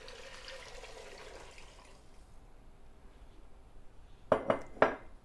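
About two quarts of water pour briefly into a cooking pot and trail off into quiet, then three sharp metallic clanks of cookware ring out close by.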